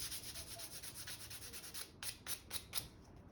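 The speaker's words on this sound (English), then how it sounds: "It just sands better." Sandpaper rubs across the back of a craft piece in quick, even back-and-forth strokes, then a few slower separate passes, close and faint.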